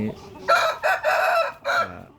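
A rooster crows loudly and close by in short repeated bursts. It is one of several chickens kept by a breeder.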